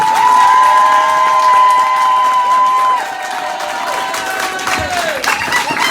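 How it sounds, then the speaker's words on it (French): An audience at a comedy stand-up show cheers and applauds, loud at first, then easing slightly. A steady whistling tone runs underneath and drops in pitch near the end. "Et faites-moi un maximum de bruit pour William Pilet!"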